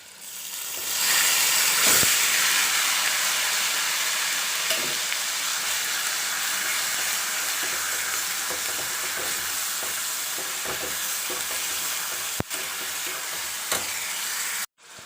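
Onion and tomato gravy hits hot oil and fries while being stirred for rajma, a loud, close, continuous hiss and sizzle with occasional spoon clicks and a sharp clank near the end.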